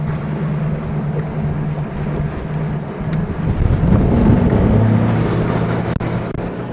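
A 2023 iKon LX21 boat's engine roars steadily at full throttle under heavy wind buffeting, building in intensity as the hull pushes through water, with a sharp knock near the end.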